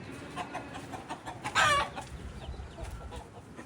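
A single short chicken call rises briefly over a soft outdoor background hum, otherwise quiet with no voices.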